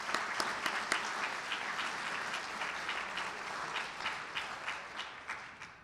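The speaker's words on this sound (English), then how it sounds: "So if we give those 3 groups a round of applause" A crowd at a candidates' forum gives three groups a round of applause: many hands clapping with distinct sharp claps standing out, steady throughout and easing slightly toward the end.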